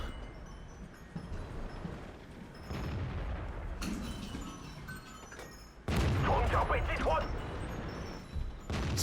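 Tank cannon shots and booming impacts from World of Tanks gameplay, several heavy bursts rising over steady game noise, the loudest stretch in the second half, with a commentator talking throughout.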